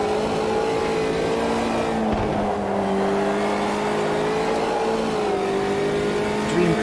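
Race car engine from the Automobilista 2 racing game, a steady loud drone with shifting pitch as it holds speed and revs through a lap, continuous throughout without speech.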